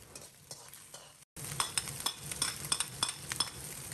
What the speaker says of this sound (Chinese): 继续把小料煸炒出香味